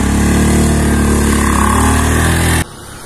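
A motorcycle engine revs loud and close at a steady high pitch, then cuts off abruptly near the end, leaving a quieter background.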